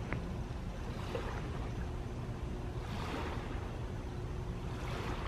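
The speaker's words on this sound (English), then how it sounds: "the sounds of the waves of Seven Seas Lagoon" Small waves wash and lap on Seven Seas Lagoon at Disney's Magic Kingdom. A steady, fairly faint watery rush comes with light wind noise, a soft surge or two and no voices.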